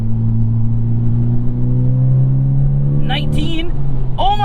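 Honda Civic Type R FL5 with a Stage 2 tune at full throttle in fourth gear: a loud, steady engine drone climbs in pitch for about three seconds, then breaks briefly as talk cuts in near the end.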